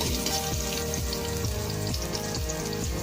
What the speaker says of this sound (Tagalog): Igisa po natin ang bawang.